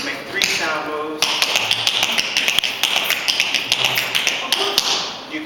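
Tap shoes strike a hard floor in a quick run of toe and heel taps, crisp clicks repeating steadily at close range, with a brief voice heard near the start.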